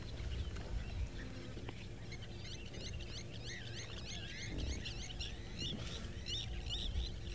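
Night-calling birds at Chitwa Dam give faint, repeated chirping calls in quick rhythmic runs over a low, quiet outdoor rumble.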